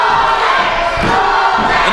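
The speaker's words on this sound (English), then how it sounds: "And listen to this crowd. Holy smokes." A packed wrestling crowd at an ETWA independent show roars and cheers continuously, a loud dense wall of voices with rising shouts, near and unbroken throughout.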